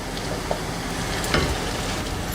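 Ground masala for Kalyana Veetu kara kuzhambu, added with curry leaves, sizzles steadily in a hot oiled pan, with a soft constant frying hiss and a few brief stirring scrapes close by.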